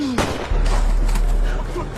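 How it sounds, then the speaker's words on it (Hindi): Gunfire in a film scene, a man firing repeatedly at two people who drop to the ground: a sharp shot near the start followed by a sustained low rumbling barrage, loud and close, with no talk. "सामने वाला आदमी लगातार गोलियां चला रहा है।"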